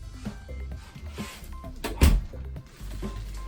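A sliding barn door inside a 2020 Forest River Salem 29VBUD RV rolls along its track and ends with a solid thunk, close by, with faint movement sounds before and after.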